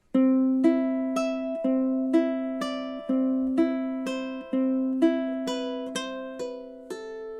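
Measures 11 and 12 of a fingerpicked ukulele etude: a steady run of about fourteen plucked notes, evenly spaced and sustaining, close and clean with no talk.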